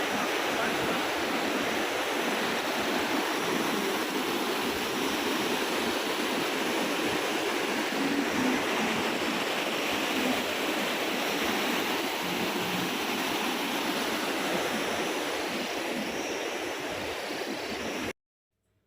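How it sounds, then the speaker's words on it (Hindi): A rushing mountain river near Manali roars as a dense, steady wall of water noise, loud and close, unbroken for the whole stretch before cutting off abruptly at the end. "और नदी देखो कहाँ से आ रही है, इतनी दूर से, और आवाज़ इतनी तेज़ है।"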